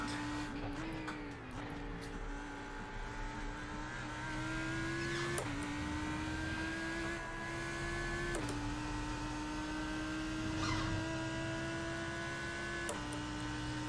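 Race car engines in iRacing at Spa, one of them a new Lamborghini, hold a steady droning whine with gear shifts and rising pitch, faint and continuous with no talk.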